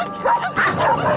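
Cartoon dogs in a pound, a quick run of several close barks and yips with a whimpering edge, loud and uneven over about a second.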